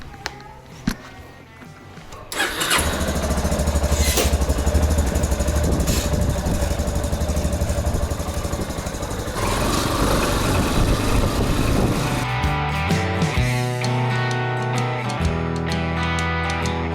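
A motorcycle engine runs steadily and loudly throughout a short ride, with a dense continuous drone and rumble that rises and shifts in pitch as the bike moves along, and no talking.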